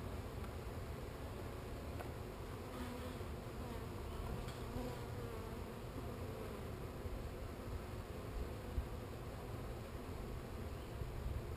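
A steady, close buzzing of many honey bees from a 3 lb package being hived, continuous and even with no pauses, faint rustling underneath and no voices.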